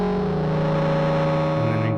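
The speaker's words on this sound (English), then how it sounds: "it sounds really cool when you add some bit crushing to it" A Korg Minilogue XD analog synth run through a Red Panda Bitmap 2 bit crusher holds a loud, buzzing, gritty chord with crunchy digital distortion, its pitch stepping slightly near the end.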